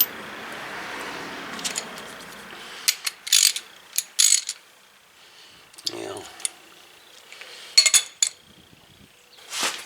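A ratchet driving a 3/8-inch 19mm deep well socket through an adapter on a Ford ZX2 tie rod job, giving several short bursts of rapid clicking separated by pauses, close and moderately loud.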